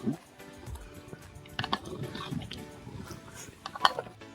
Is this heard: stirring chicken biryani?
yes